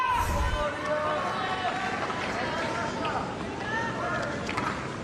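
A full house of about 15,000 tennis fans at Rod Laver Arena keeps up a steady, distant wash of applause during an Australian Open quarterfinal, running under a commentator's voice throughout.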